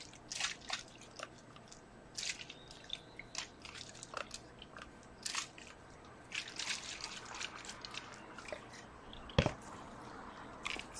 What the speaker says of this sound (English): I'm just gonna do this and let pieces just drip out.